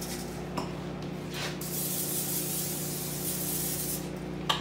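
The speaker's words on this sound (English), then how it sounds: "you spray your pan." Cooking spray hisses in a steady broadband burst onto a frying pan for several seconds during vegan home cooking, with a low hum under it and a couple of small clicks at the start and end.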